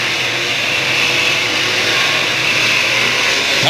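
Race car engines roar on a speedway oval during a short-track race, a loud steady broadband drone holding throughout with no pauses, the pack of cars running close together.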